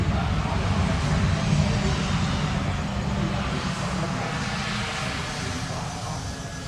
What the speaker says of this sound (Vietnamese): Và bây giờ máy bay đang giảm tốc.